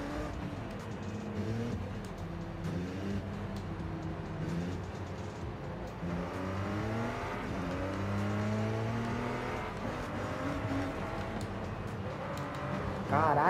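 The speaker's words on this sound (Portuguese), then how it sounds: "Pra gente poder aproveitar o ronco do carro, poder curtir a viagem de GTR" Volkswagen Golf GTI engine in a driving video game, roaring as it revs up and shifts through gears with rising and falling pitch, loud and close, with a bit of talk in the background.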